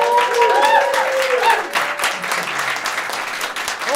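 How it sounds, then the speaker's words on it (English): An audience claps and cheers for a stand-up comedian in a club, a loud, dense burst of applause that gradually thins, with a voice faintly talking underneath. "Hold your applause."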